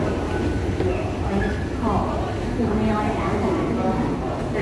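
A Taipei Metro Bannan line train runs at Zhongxiao Xinsheng station with a steady rumble and a low hum of wheels, and a rising tone near two seconds, while a person talks over it throughout.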